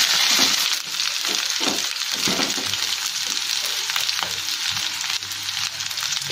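Onions, green chilies and mint fry in a pan for a mint khichdi, with a loud, close, continuous sizzle and scattered clinks and scrapes of stirring. No voices are heard.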